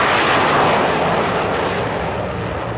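Jet aircraft at an airshow, its engine a loud, continuous roar that holds strong and close throughout with no voices.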